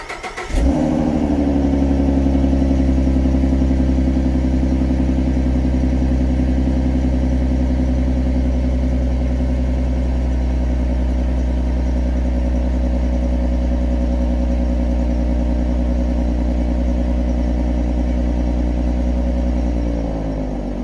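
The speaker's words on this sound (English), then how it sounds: "we're going to go ahead and do exhaust notes for all the cars also. So we'll start off with the V6." A Ford Mustang V6, the Cyclone engine, idles with a deep, steady exhaust rumble after starting up, holding a constant loud drone close by for about twenty seconds with no one speaking.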